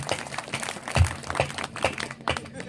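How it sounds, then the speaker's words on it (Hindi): Audience clapping at a Hindi poetry and comedy stage show, a scattered, uneven patter of hands with a few stronger claps, fairly soft and brief. "एक बार तालियां बजाइए"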